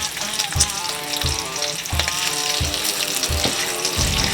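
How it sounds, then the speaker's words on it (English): Bacon sizzles steadily in a hot pan, a close, continuous crackle and hiss broken by a few soft thumps and scrapes as strips are moved around, with no talking. "we don't want to overcook this bacon"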